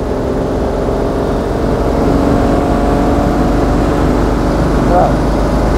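A 1939 BMW 327/328 Sport-Kabriolett's six-cylinder engine runs at a steady, continuous low rumble, loud and close, with no clear revving.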